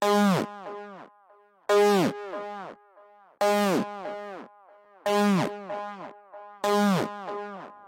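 Synth notes run through a dotted-note delay, set to dotted eighth and dotted quarter. Five bright plucked hits repeat about every 1.7 seconds, each followed by a fading train of echoes, with no other sound.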